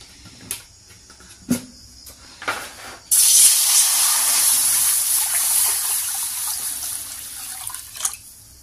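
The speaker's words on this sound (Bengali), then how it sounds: "দিয়ে দেবো কিছু পানি।" A few clinks and taps, then a sudden steady rush of water pours into a kadai on a stove for several seconds before stopping.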